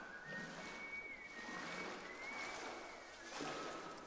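Faint wavering whistled melody drifts over a dull low rumble in the horror game Golgotha, with a soft watery slosh in the background and no talk.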